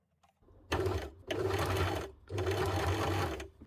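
A basic domestic sewing machine stitches a blind hem in three bursts, each a steady run of close, rapid stitching separated by brief pauses, near and clear with no talk.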